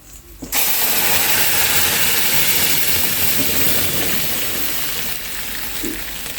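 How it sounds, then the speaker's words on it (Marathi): A tempering of curry leaves and coriander hits hot oil for dal with a sudden loud sizzle, settling into a sustained, crackling hiss that fades slightly near the end. "बसली फोडणी आहे"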